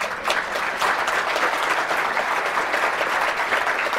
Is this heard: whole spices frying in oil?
no